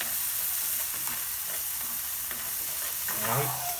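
Cajun style smelts fry with salsa in a pan, making a dense, steady sizzle with crackling spatters and a brief bubbling burst near the end, close and continuous without talk.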